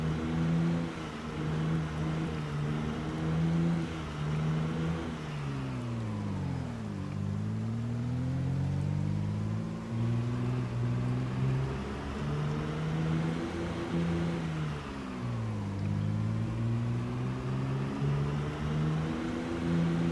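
A car engine in a zombie survival video game drones steadily and moderately loud. It swells and dips in pitch twice as the vehicle slows and speeds up again, and no one talks over it.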